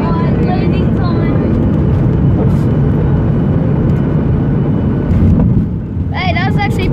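A Fiji Airways airplane lands at Canberra airport, heard as a loud, steady roar from inside the cabin with a brief voice near the end.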